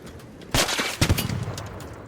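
Gunfire in a video game: a few scattered, moderately loud shots with short bursts around them, fading into quieter rumble afterward.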